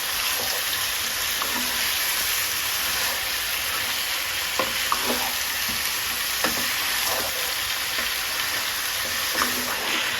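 Country chicken curry pieces fry in hot oil with a steady, dense sizzle, joined by a few soft stirring scrapes at intervals, close up and with no talking.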